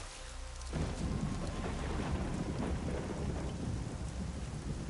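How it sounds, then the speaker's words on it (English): Rolling thunder and steady heavy rain in the video game Diablo: Reaper of Souls, a loud, continuous storm swelling in after a quiet first moment and holding without speech. "Is it snowing or is it raining? Well, I guess it's because of the thunder."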